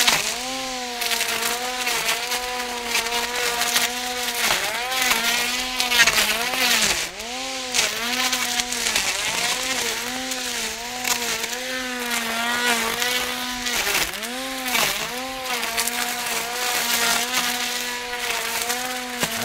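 A Stihl FSA 60 R battery grass trimmer fitted with a PolyCut 6-2 head whines loudly and steadily while slashing through thumb-thick branches, its pitch dipping and recovering repeatedly as the blades bite into the wood.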